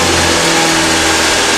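Multi-cylinder petrol engine on a test rig during a Morse test, running steadily at about 2700 RPM with a loud, continuous mid-pitched drone and tonal hum.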